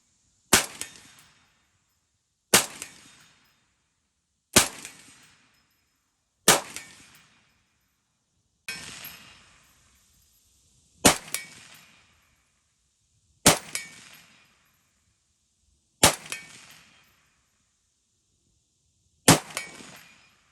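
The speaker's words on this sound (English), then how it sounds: "So we're going to take this one to the range and we're going to see how this one shoots." A Windham Weaponry MCS multi-caliber rifle fires nine spaced shots at an outdoor range, each a sharp crack followed by a ringing metallic clang from the steel target, with quiet gaps of about two seconds between them.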